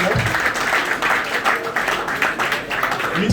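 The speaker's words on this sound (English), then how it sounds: "Please, you can give a just a round of applause." Audience applause for a guest speaker at a Nigerian student federation event: continuous, fairly loud clapping from many hands, filling the whole moment evenly.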